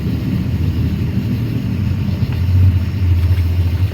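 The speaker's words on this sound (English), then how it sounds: "I'm gonna kill this motor, is that all right?" A fishing boat's outboard motor runs steadily on the water, giving a low, continuous droning rumble that grows a little louder and more tonal toward the end, with no voices heard.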